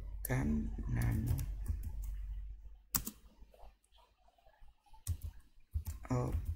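Bursts of clicky computer keyboard typing enter a command in Ubuntu running in VirtualBox, close and quick, alternating with someone speaking.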